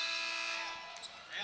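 An end-of-quarter buzzer sounds at a Gonzaga versus San Francisco college basketball game, a steady electronic tone carrying over crowd noise before fading into the arena din.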